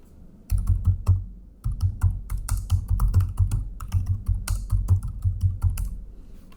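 Rapid typing on a computer keyboard, close and distinct, with brisk irregular key clicks and a brief pause early on before the keystrokes resume steadily.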